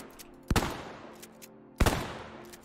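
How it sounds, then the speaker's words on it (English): Two loud, close blasts from a Winchester M1912 pump-action shotgun in the WWII shooter Squad 44, about a second apart, each with a booming echoing tail fading into a quiet gap. "The US Marine Corps also gets access to the Winchester M1912 shotgun,"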